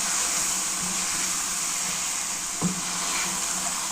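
Spinach and mutton curry frying in a pan while being stirred, a steady broad sizzle running throughout with one brief scrape or clatter of the spoon near the end.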